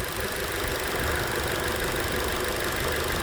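A 2012 Ford Fusion SE with the 2.5-liter four-cylinder idles at a low level, a soft, steady engine hum with a faint ticking texture and no voices.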